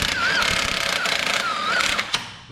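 A power tool tightens bolts on a car transmission during a transmission job, giving a loud, continuous, rattling whir up close with brief squeaky tones and a couple of sharp knocks near the end.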